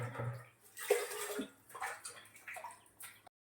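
Water splashes and gurgles while a water tank is rinsed out, a faint, uneven run of sloshing and dripping that stops abruptly after about three seconds.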